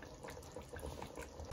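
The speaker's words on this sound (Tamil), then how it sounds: "இப்போ இந்த சிக்கனை பாருங்க ஃபுல்லாக கொதிச்சு இந்த தண்ணி வத்தி கொண்டு வருது" Chicken simmers in water in a pot for biryani as the liquid cooks down, making a faint, continuous bubbling with no voices.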